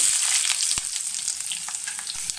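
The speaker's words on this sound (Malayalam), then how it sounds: "വെളിച്ചെണ്ണ നല്ല ചൂടായിട്ടുണ്ട്. അതിലേക്ക് ഞാനിവിടെ ചെറുള്ളിയും, ഒരു 5 ചെറുള്ളിയും 4 പച്ചമുളകും." Shallots and green chillies fry in hot coconut oil with a loud, dense, continuous sizzle and crackle, close up, with occasional stirring sounds and no talking.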